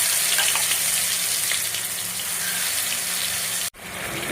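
Whole spices fry in hot oil in a wok, a loud, close, continuous sizzle and crackle that cuts off abruptly near the end before resuming faintly, with no talk.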